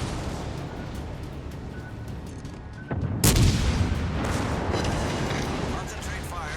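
Naval guns firing aboard a warship in World of Warships Legends on Xbox Series X, one heavy close boom standing out from a constant battle rumble, with voice callouts over it.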